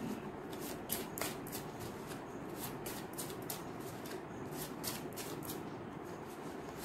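Tarot cards shuffled by hand during a pick-a-card reading, a steady run of quick papery riffles and flutters repeating close up for several seconds, with no voices.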